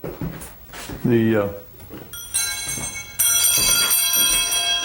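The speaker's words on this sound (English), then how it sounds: "And also another part of the oxen, I think, is that bell." An antique bell once fixed to an ox yoke rings with bright, lingering metallic tones in two strikes, following and partly overlapping people talking nearby.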